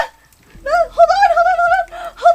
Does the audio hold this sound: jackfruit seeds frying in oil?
no